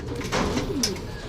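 Pigeons coo softly nearby in a Filipino racing-pigeon loft, a low throaty call rising briefly before fading, with no voices.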